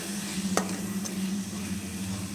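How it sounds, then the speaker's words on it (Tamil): Spice masala of red chilli powder, coriander powder, cumin powder and garam masala frying in oil for palak paneer, giving a steady close sizzle with a couple of sharp spoon scrapes. "ஸோ மசாலா வந்து நல்லா ஃப்ரை ஆகிடுச்சு"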